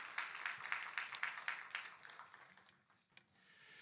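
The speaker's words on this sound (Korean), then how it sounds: "위로의 박수 하겠습니다" A church congregation gives a short round of comforting applause during a worship service, faint and steady at first, then tapering off into quiet.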